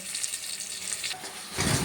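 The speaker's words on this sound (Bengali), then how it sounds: "এবার পটলটা ভেজে নিচ্ছি" Pointed gourd (potol) frying in oil for khichuri, a soft steady sizzle with a louder burst of crackling near the end, close by and with no talk.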